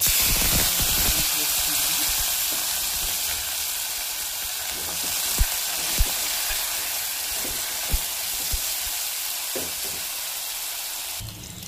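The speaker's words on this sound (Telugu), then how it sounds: "నూనె అయితే వేడయ్యింది. జీలకర్ర ఆవాలు వేసేసిన వేగుతున్నాయి." Cumin and mustard seeds frying in hot oil for a tamarind rasam tempering, giving a loud, continuous sizzle and hiss with a few sharp pops and crackles.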